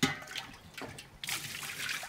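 Water poured into a large cooking pot for borscht, a splashing trickle that swells and eases. It is fairly soft and close, with some outdoor background noise.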